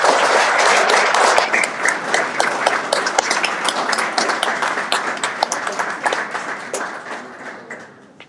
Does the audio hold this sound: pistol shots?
no